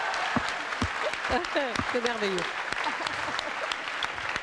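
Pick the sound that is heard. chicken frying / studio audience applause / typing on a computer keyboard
studio audience applause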